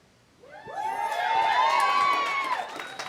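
A comedy show audience bursts into loud cheering, whoops and shouts that swell after a quiet start and hold steady, with applause mixed into the crowd roar.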